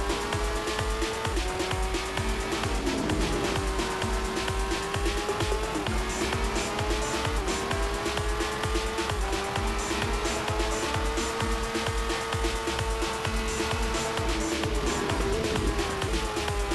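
Game race car engine from Monoposto running steadily on a track, its continuous whine rising and falling with gear changes, loud and close throughout with no talking.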